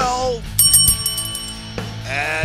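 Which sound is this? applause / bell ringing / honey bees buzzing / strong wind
bell ringing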